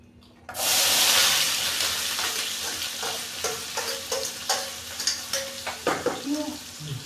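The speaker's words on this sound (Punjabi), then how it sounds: "ਸੋ ਹੁਣ ਆਪਾਂ ਕੜਾਈ 'ਚ ਪਾ ਦਿੱਤਾ ਹੈ ਤੇਲ ਤੇ ਹੁਣ ਪਾਵਾਂਗੇ ਵਿੱਚ ਪਿਆਜ਼" Chopped onions drop into hot oil in a kadai with a sudden loud burst of sizzling that stays steady and close, while stirring clinks and scrapes rise over it in the later seconds.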